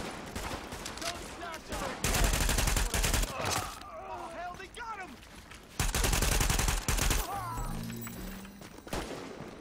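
Gunfire in the video game Tom Clancy's The Division comes in two loud, dense bursts of rapid shots, separated by quieter stretches with in-game voices and chatter.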